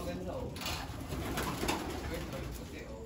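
Racing pigeons in a loft give soft, repeated throaty coos with faint fluttering and shuffling around them. The sound is quiet and near, with a few scattered louder bursts.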